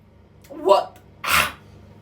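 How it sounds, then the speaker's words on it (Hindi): A single close, explosive sneeze blended with a cough, a short voiced burst followed by a sharper, breathy blast, heard alone in a quiet room. "छींक और खांसी साथ है ये"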